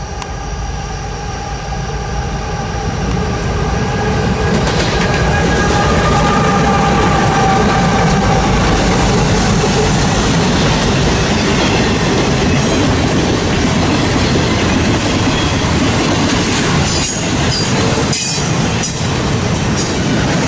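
A double-stack freight train passes close at a junction near Lewistown, Pennsylvania, with loud, continuous rumbling and rolling of wheels on rail, wheel squeal, and rhythmic clattering over rail joints toward the end, with no talk.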